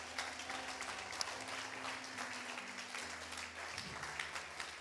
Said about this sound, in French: Acclame le Seigneur pour toi-même maintenant.